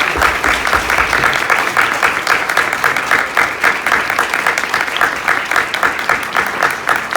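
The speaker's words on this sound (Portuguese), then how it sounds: "Aplaudo." Sustained audience applause at a talk in the Petra Belas Artes cinema, a steady, fairly loud wash of many hands clapping throughout.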